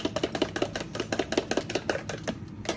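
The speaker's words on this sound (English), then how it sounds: "So I'm going to beat my eggs first." Eggs beaten in a container before frying pork chops, a quick steady run of sharp, close taps of utensil against the bowl, evenly spaced and loud, with no talking.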